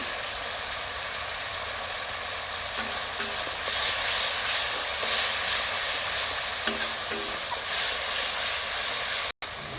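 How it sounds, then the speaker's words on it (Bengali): Spice paste with Kashmiri chilli powder fries in oil while being stirred, giving a steady, close sizzle with occasional scraping knocks and no talking. "মশলাটা আমার ভাজা হয়ে গেছে, এই যে তেল ছেড়ে গেছে উপর দিয়ে"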